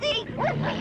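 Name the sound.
dogs barking at the dog pound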